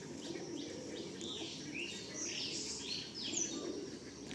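Faint chirps and soft calls drift from pigeons kept at a home loft, heard at a distance over a steady low background hum with no one speaking.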